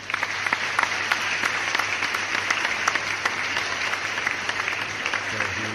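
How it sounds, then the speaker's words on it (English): Applause following a talk during a live online session, a dense steady patter of many hands clapping throughout, moderately loud with a faint low hum underneath. "Let's give him applause."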